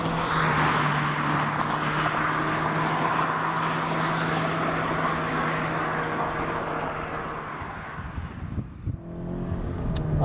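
A Ford Fiesta ST turbo car drives with a loud sustained engine drone and road roar from inside, easing off toward the end before picking up again.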